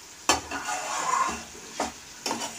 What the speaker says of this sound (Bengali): অনেকক্ষণ ধরে কষাচ্ছি